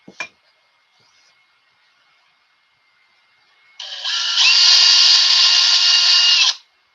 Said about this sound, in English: And pilot drill, that was 16th inch.